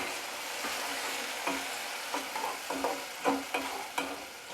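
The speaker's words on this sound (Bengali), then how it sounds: "দিয়ে আমি ভালোভাবে এটা 3 থেকে 4 মিনিট কষিয়ে নেব।" Ginger, garlic, green chilli and tomato paste sautéing with fried onions in a pan, a low sizzle punctuated by repeated scraping stirs that grow sharper toward the end, close by.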